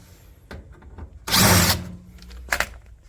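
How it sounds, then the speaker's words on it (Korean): A power screwdriver unscrews the main board fixing screws on a small LG drum washing machine. It gives one short, loud whirring burst in the middle, with fainter clicks and handling noises around it. "이 고정 나사를 풀도록 합니다"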